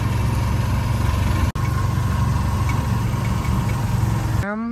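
Motorized tricycle engine steadily idling and chugging in Port Barton, Palawan, loud and close throughout with a brief dropout, then a rising tone near the end.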